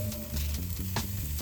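Peppers and onions sizzling on hot grill grates, a brief close crackle with a few soft bursts over a low background hum.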